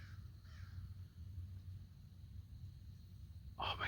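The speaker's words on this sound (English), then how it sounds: "I think the crow agrees." A crow caws outdoors at a campground on a quiet morning. A faint call comes early, then one clear, harsh caw sounds near the end over low, steady background hum.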